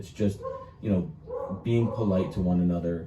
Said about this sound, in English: That dog is going nuts.